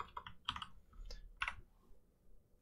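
Typing on a computer keyboard comes in short bursts of crisp clicks: a quick run of keystrokes, a pause, then another cluster, close and fairly quiet with no voices.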